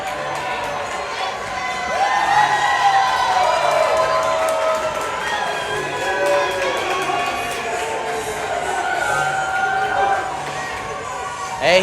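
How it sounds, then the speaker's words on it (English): A boxing crowd at a fight night roars and cheers for fighter Scibica, loud and sustained with shouts and whistles rising throughout, while announcers talk over the noise. "He definitely brought the crowd. They are going crazy for him tonight."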